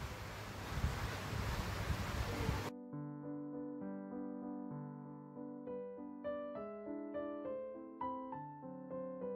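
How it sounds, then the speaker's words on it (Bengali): A light drizzle of rain falls outside a home kitchen as a steady, soft broadband hiss for under three seconds, then cuts off abruptly and tonal background music takes over. "তবুও একটু ঝিরিঝিরি নামছে, রেকর্ডিংয়ে একটু শোনা যাচ্ছে"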